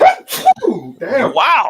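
Two more sneezes in quick succession from the same person, loud and close to the mic, ending a run of three, with a man's brief spoken reaction between and after them.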